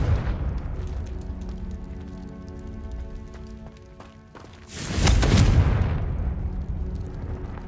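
A Confringo spell blast in Hogwarts Legacy, a loud, sudden boom erupting midway and rumbling out over a couple of seconds amid ongoing game ambience.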